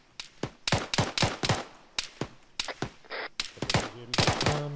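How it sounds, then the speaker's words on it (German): Gunfire in the Arma 3 military video game, sharp shots in irregular bursts and rapid clusters, some close and loud, others echoing, with a brief voice near the end. "Ich glaube, von da kommen die Schüsse her."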